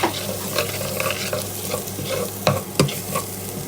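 Garlic and onion fry in a pan, giving a steady close sizzle with stirring scrapes and a couple of sharper clinks, and no one speaks.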